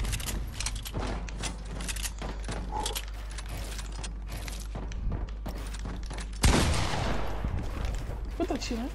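A single sharp gunshot cracks out from a video game build-fight match, loud and sudden after a stretch of busy clicking and clattering game sounds.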